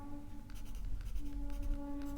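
Pen or pencil writing by hand on paper while working a Class 7 geometry problem, with close scratchy strokes in short repeated bursts over a faint steady background hum.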